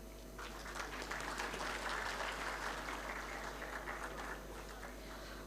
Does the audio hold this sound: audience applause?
yes